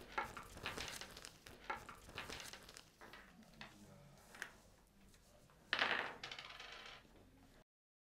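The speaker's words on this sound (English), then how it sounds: "I'd like you to roll each of these dice 16 times and record how many sixes you get for each one." Several dice rattle and tumble on a table in short bursts of clatter, with one louder roll near the end.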